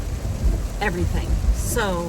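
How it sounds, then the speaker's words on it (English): Rain drumming on a car while driving, a steady close wash of patter and road rumble beneath someone talking. "I'm on my way in the rain, obviously"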